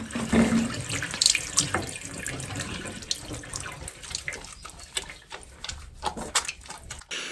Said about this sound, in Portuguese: Mãos recém-ensaboadas sobre água corrente.